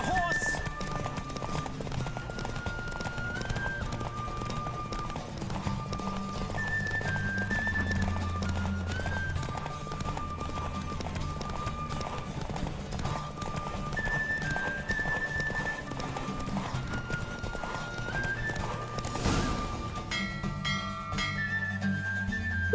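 Hooves of a racing horse in The Witcher 3, a rapid galloping clip-clop that runs steadily throughout, with game music and a few voiced lines from characters over it.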